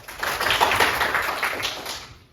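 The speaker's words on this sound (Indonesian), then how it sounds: "Tepuk tangan dulu." Clapping in a classroom, a dense burst of many hands applauding together that swells and then fades over about two seconds, close and fairly loud, with no talking.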